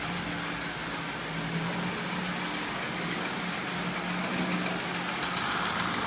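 A small Marx 490 double-reduction toy train motor hums and rattles steadily with a faint buzzing clacker, running continuously at close range with no pauses.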